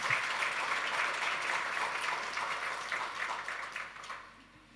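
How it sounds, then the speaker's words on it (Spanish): A church congregation applauds together during a sermon, a dense, steady wash of many hands clapping that holds evenly for several seconds and then fades out near the end. "denle un buen aplauso al Señor"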